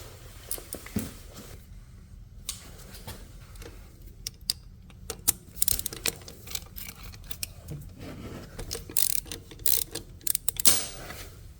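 A hand wrench works on a deep-set 10 mm starter bolt on a 2022 Can-Am Renegade/Outlander 850 ATV, giving scattered close metallic ratchet clicks and scrapes in uneven bursts with quiet gaps between.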